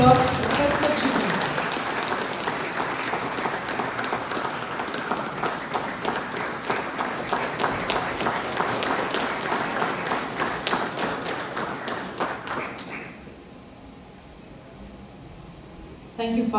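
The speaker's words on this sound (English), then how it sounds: "Once again, let's give a grand round of applause to Professor Jeevan." Audience applause at a commencement ceremony: steady, dense clapping from a large crowd in a hall, lasting several seconds before fading to quiet room tone.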